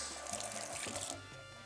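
Tomatillos rinsed under a running kitchen tap, a steady close hiss of water splashing in a sink that lasts about a second before easing slightly, with no talking.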